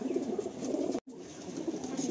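Madrasi pigeons in a loft, cooing in a soft continuous murmur of low, throaty calls, close and steady, with a brief gap midway.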